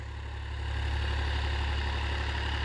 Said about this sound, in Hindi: मैसी ट्रैक्टर जुताई कर रहा है लो के फोर्थ गियर में हाई में नहीं लगाया हुआ है